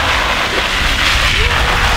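Water pours from above onto a raincoat like falling rain, producing a loud, steady, close hiss and patter that fills the whole stretch without pause.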